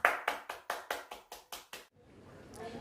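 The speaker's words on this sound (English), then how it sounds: "Let's give her a round of applause." Eight evenly spaced sharp hand claps from a small audience at a symposium welcoming a speaker, fairly close and steady, then stopping into near silence.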